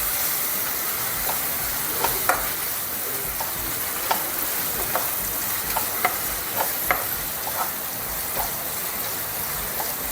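Salt and spices fry in hot oil for raw mango gojju, giving a steady close sizzle with scattered light scrapes and taps as they are stirred.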